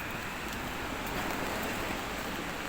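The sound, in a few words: rain falling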